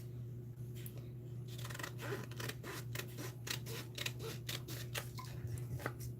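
Scissors snip repeatedly while cutting out a craft piece for Halloween treats, a steady series of short crisp clicks at close range over a low constant hum, with no talk.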